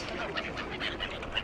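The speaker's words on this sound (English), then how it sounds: "Although I feel like it's a duck and bird fighting zone." Ducks and other birds along the river by St Ives bridge, a busy mix of quacks and calls at moderate distance over steady outdoor background noise.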